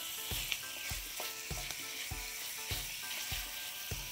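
Chicken skin crisping in a pan over low-medium heat, giving a continuous soft sizzle and crackle punctuated by regular light ticks roughly every half second.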